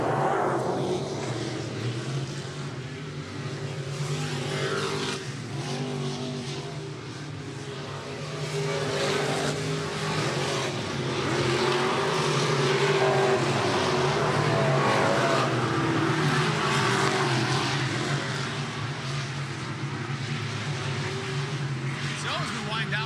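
IMCA modified race cars lapping a dirt oval at Maquoketa Speedway during a hot lap session, engines droning and swelling steadily throughout with a dense roar, under a track announcer's voice.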